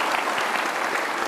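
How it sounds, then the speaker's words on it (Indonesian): Studio audience on a live Indonesian talk show clapping for a guest: a brief, dense burst of applause heard alone. "kita kasih tepuk tangan dong Kakak Edison"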